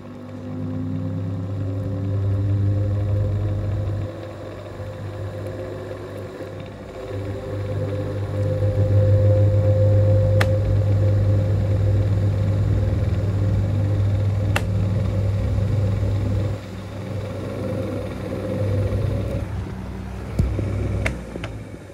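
An Xpelair Taurus T12 extractor fan runs after a small clean. It gives a steady motor hum with a strong low tonal drone, shifting in pitch and level as the speed changes, with a couple of sharp clicks.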